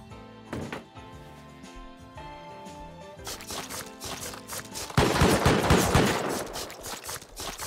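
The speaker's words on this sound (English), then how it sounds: "Okay, definitely a turret on this side." An auto turret fires in the video game Rust, sending sustained bursts of rapid gunfire that grow denser and louder partway through and keep going to the end, with a few sharp single shots near the start.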